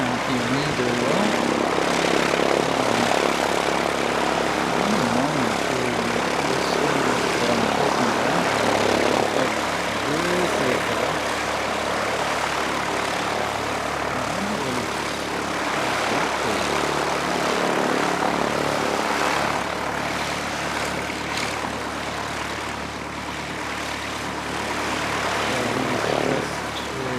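A Piper Warrior II light aircraft from an aero club at Canterbury runs its engine just after start-up, a loud, continuous propeller drone that fills the whole stretch without letup.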